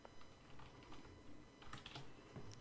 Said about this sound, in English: now what you do is that you simply type in the command game mode set 0